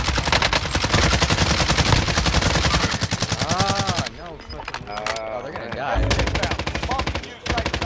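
Rapid automatic gunfire in a multiplayer shooter video game, loud and continuous with brief pauses, while players talk over the shooting.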